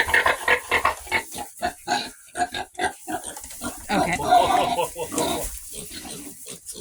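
Pigs in a camper barn grunt and oink in quick, repeated bursts, close and loud, with a brief bit of human speech mixed in.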